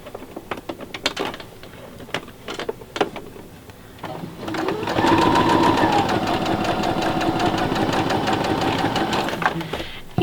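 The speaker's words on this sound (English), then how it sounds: "stitch them with our 1/4 inch seam allowance." A sewing machine chain-stitches red and white quilt pieces at a quarter-inch seam, starting after a few clicks and fabric handling sounds, then running in a close, steady, rapid mechanical whir until the end.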